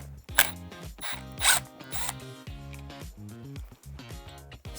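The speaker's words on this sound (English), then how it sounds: "Next, we're going to remove these 2 screws." Two screws being removed from a wheelchair arm underlay with a power driver, close whirring motor bursts with ratcheting, rising and falling buzzes and a few sharp clicks, no talk.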